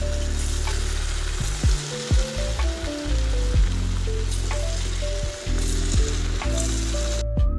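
Pumpkin sweet bondas frying in hot oil, a loud continuous crackling sizzle close by, with bubbling pops and a few clinks of a utensil against the pan.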